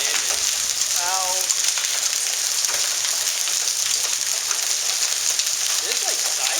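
Heavy hail falling in an intense Dallas, Texas thunderstorm, a continuous loud clatter and hiss of stones striking surfaces, with brief speech around the first second and another short vocal sound near the end.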